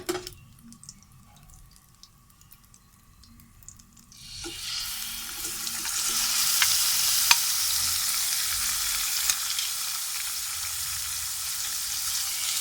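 Finely chopped chicken hits hot oil in a pan and a loud, continuous sizzle rises and holds steady, with faint scraping from stirring. It follows a few quiet seconds.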